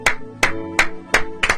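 A church congregation applauding together in rhythmic unison, five loud claps spaced about a third of a second apart, close and alone without voices.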